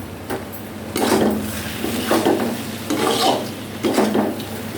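Bay leaf and kasuri methi stirred into hot oil in a pan, giving repeated bursts of sizzling and scraping that rise and fall with each stir, close and fairly loud, with no talk.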